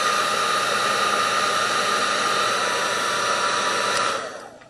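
A heat gun shrinks heat shrink tubing while soldering EL wire, giving a loud, steady blowing roar close by that runs without a break and then fades as it switches off near the end.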